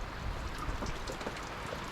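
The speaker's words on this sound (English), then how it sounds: "It's been wet and rainy" Rain falls during wet weather on a boat trip near Townsville, a soft, faint patter of drops and light splashes on surfaces continuing steadily.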